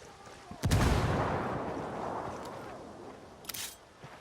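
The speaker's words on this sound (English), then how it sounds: "Grenade!" A grenade explosion in the video game Ghost Recon Wildlands lands as a heavy boom with a long rumbling tail, followed by a brief sharp gunshot-like crack, heard at moderate level without speech.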